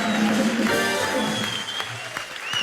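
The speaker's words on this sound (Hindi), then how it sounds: "एक बार जोरदार तालियां हो जाए अनुष्का के लिए।" Studio audience applause on a comedy show, a short burst of clapping layered with lingering music and voices that fades slightly before picking up again.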